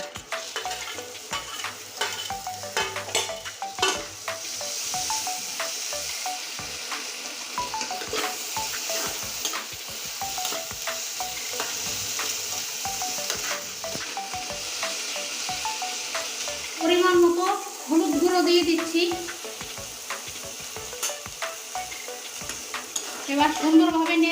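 Chopped tomatoes and spice masala sizzle in a pan while a spoon stirs and scrapes at an irregular rhythm, close and moderately loud, with a few sharp clinks against the pan.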